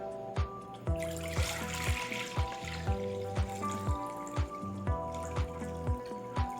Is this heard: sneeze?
no